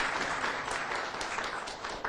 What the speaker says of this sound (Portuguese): Aplaudam ele mesmo.